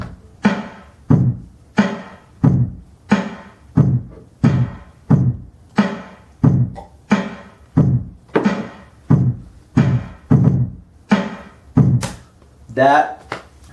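Hip hop beat built from layered kick drums, bass and snare, pounding out a steady, evenly spaced rhythm of loud hits with a brighter flourish near the end.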